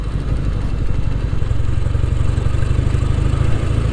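A Royal Enfield Interceptor motorcycle engine runs close by with a low, throbbing beat and mechanical clatter, steady and loud from start to finish with no one talking.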